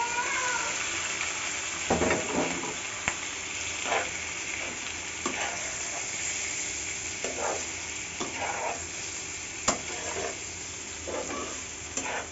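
Scrambled eggs and pointed gourd fry in a pan with a constant soft sizzle and hiss, while a spatula scrapes and stirs in repeated strokes close by.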